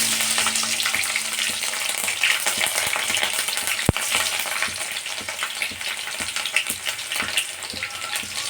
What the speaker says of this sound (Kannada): ಫಸ್ಟಿಗೆ ಸ್ವಲ್ಪ ಎಣ್ಣೆ ಕಾದಿದೆ. ಹಸಿಮೆಣಸಿನ್ಕಾಯಿನ ನಾವು ಫಸ್ಟಿಗೆ ಹಾಕ್ತೀವಿ.